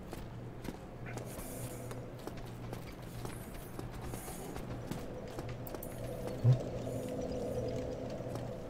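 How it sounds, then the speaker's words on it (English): Footsteps in Dark Souls Remastered, a soft repeated clopping tread at a steady pace over a low ambient hum, moderately close, with one brief louder thump near the end. "That's weird. I hear double the footsteps."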